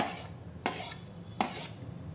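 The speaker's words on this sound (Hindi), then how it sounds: "अब हम इसे अच्छी तरीके से मिक्स कर लेंगे।" Onion, tomato, paneer, capsicum and carrot salad being tossed in a bowl, with a soft low rustle broken by two sharp clinks of a utensil against the dish, close and fairly quiet.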